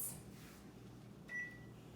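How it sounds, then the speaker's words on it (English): Oven timer being set in a home kitchen during baking: one short, clear electronic beep partway through, over a steady low appliance hum, with no talking. "So we're going to set the timer for about 19 minutes."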